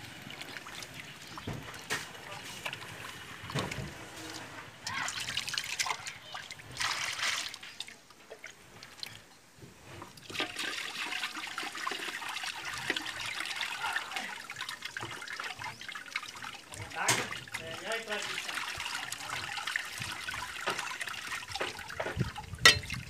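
Water trickling and splashing while washing cassava carimã by hand, a continuous soft wet dribble with sloshing bursts, close and fairly quiet, no talk.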